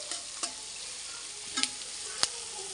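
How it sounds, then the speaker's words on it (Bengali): Onions stir-frying with garlic, bay leaf, cardamom and spices give a steady soft sizzle, broken by a few sharp scrapes and clinks of the spoon against the pan. "এখন পেঁয়াজটা ভালো করে ভাজা ভাজা করে নেব"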